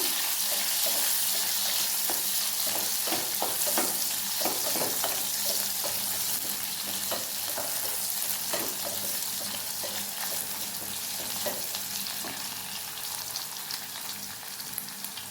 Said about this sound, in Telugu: ఎర్రగడ్డలు బాగా ఫ్రై అయిపోయినాయి.